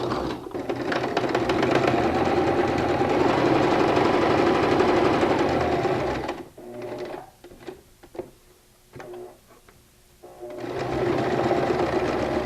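A sewing machine stitches fabric in a loud, close, rapid mechanical whir, pauses briefly for a few small clicks and shorter bursts while back stitching, then runs steadily again.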